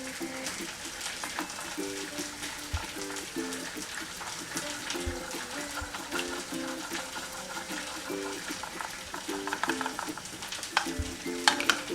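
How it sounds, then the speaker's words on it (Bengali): Paneer tikka pieces are stirred with soy sauce in a pan, giving soft scraping and a faint, continuous sizzle, with a few dull knocks, over quiet background music. "এবার এটা ভালো করে মেশাবো।"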